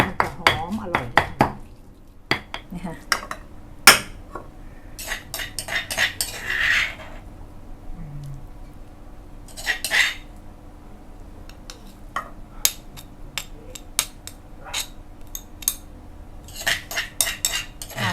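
A spatula scrapes and clanks against a pan while stir-frying pork chili paste with dried kaffir lime leaves and red chilies in olive oil. Sharp metallic strikes and scrapes come in irregular bursts, close and fairly loud, with quieter gaps between.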